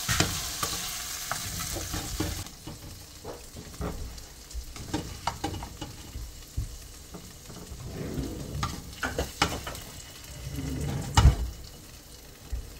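Shrimp frying in a pot with oil for shrimp fried rice, a close sizzle punctuated by repeated scraping and stirring knocks, growing busier toward the end, with no speech.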